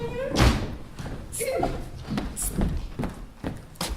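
A door slams shut on a stage during an amateur theatre play, a loud close thump followed by further knocks and thuds while people talk over the scene.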